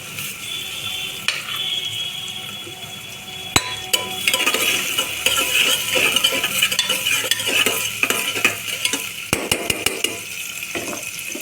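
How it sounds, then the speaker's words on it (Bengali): Chopped tomatoes hit softened onions in a hot pan, bringing a steady close sizzle with repeated stirring scrapes and clinks of a utensil against the pan for egg tadka; no talking. "পেঁয়াজটা একটু হলেই যে টমেটো কুচানোগুলো দিচ্ছি"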